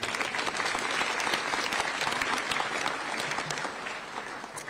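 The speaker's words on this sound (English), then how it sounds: "We can give her a round of applause again." A high school awards night audience gives a full round of applause, many hands clapping together in a dense, steady roar at moderate volume that tapers slightly near the end.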